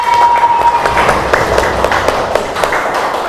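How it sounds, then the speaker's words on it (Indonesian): A classroom group breaks into dense, steady applause, loud and close, the clapping filling the room continuously with a few voices faintly underneath. "tepuk tangan untuk semuanya"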